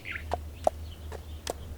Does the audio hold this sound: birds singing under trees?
yes